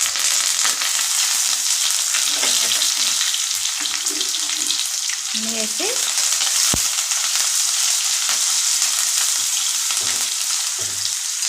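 Chopped onions frying in a pan with green chillies and curry leaves, a constant bright sizzle broken now and then by soft stirring scrapes and one sharp clink of a utensil.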